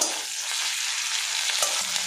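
A thick onion, garlic and spice paste sizzles and spits in a hot pan, with a steady frying hiss and the scrape of a spoon stirring now and then.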